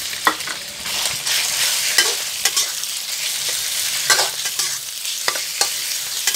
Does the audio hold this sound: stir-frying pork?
yes